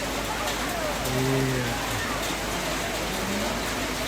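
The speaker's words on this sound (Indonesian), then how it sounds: "Hujan guys, hujan." Rain falls steadily at an outdoor wedding reception in Malimbong Rembon, a dense even hiss filling the scene, with a voice speaking briefly over it.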